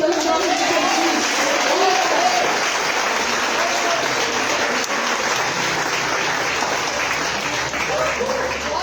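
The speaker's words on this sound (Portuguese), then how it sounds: "Aplauda o Senhor pelo nome de Jesus" Church congregation applauding loudly and steadily throughout a celebration service, a dense wash of clapping with voices mixed in underneath.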